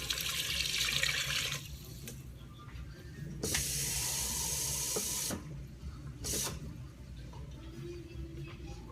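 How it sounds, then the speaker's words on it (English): Water runs from a kitchen tap into a measuring cup for cooking, a fairly faint splashing stream that starts and stops in several bursts, with quiet pauses between fills. "I'm going to use 3 cups of water here"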